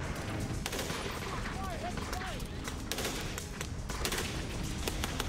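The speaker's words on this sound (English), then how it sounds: "His Browning light machine gun fires from a 250-round belt fed from the side." A Browning light machine gun fed from a 250-round side belt fires sustained bursts, part of a constant wash of battle gunfire, with a voice talking over it.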